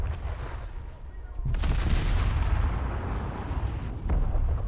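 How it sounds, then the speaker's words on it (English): Heavy warship guns fire a full salvo in War Thunder Mobile, booming in deep blasts that roll on into a sustained rumble. "Full salvo."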